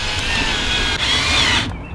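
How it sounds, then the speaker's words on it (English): A power drill bores 1/16 inch holes into pipe while a compost tea brewer is assembled, a steady close whine running unbroken for nearly two seconds before the bit stops abruptly. "I'm gonna go ahead and drill some holes"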